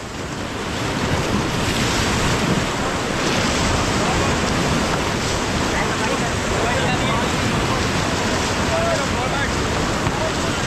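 Fast rapids on the Ganges at Rishikesh during white-water rafting, a continuous loud roar of rushing water with wind buffeting the microphone and voices shouting faintly underneath.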